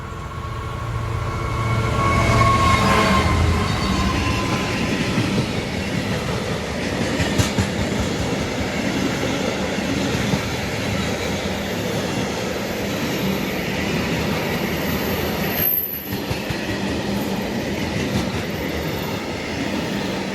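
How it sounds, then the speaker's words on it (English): A Class 66 diesel freight locomotive working hard rumbles past at speed on the East Coast Main Line at Tuxford with a loud, steady roar and the clattering of wagons on the rails, continuing for about twenty seconds. "Class 66, working hard."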